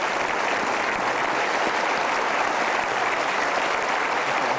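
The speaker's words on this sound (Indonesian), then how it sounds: "Kita berikan aplaus." Studio audience at a television talk show applauding, a dense and steady wash of clapping that holds at full strength throughout without any pause.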